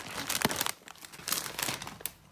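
A plastic bag of assorted mosses, wood chips and sticks crinkles up close in several short, crisp bursts of rustling with brief pauses between them.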